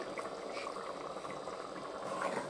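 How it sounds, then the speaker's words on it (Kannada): Tomato bath simmers and boils in a pot, giving a continuous, soft bubbling and gurgling that stays faint and even throughout. "ಇದೀಗ ಚೆನ್ನಾಗಿ ಕುದೀತಾ ಇದೆ"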